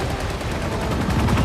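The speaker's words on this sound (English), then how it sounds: "we get some like more Michael Bay-ish kind of explosions here" Rapid gunfire and explosions crackle in a loud, dense action scene from Falcon and the Winter Soldier, a sustained burst of shots with no break.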